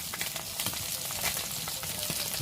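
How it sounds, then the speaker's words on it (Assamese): Pomfret fish frying in hot oil, a steady dense sizzle with crackling pops throughout, close and continuous with no talk. "পাভ মাছ ভাজি আছোঁ খাবৰ কাৰণে"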